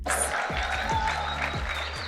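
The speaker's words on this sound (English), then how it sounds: "Can we just give a round of applause for these amazing creators?" An audience at a creative summit panel claps steadily for the creators, a dense, even patter of many hands that holds for a couple of seconds.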